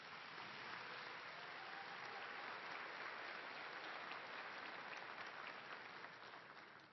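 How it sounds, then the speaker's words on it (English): Audience applauding at a fall university commencement ceremony at Angelo State University, a dense, steady wash of clapping from a large crowd that holds for several seconds and tapers slightly at the end, heard from a distance. "Please join me in a round of applause for these individuals."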